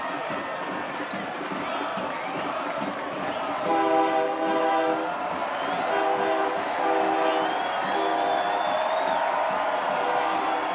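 At a soccer stadium, a train passes in the background with a sustained horn-like tonal drone and rail rumble, heard over a steady crowd murmur with faint voices.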